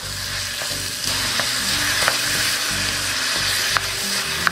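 Lamb and sautéed vegetables sizzle steadily in a hot pan, a dense crackling fry with occasional sharp pops and clinks as the meat is stirred, close and loud with no talk.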